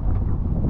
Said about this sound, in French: Le vent s'est levé de fou.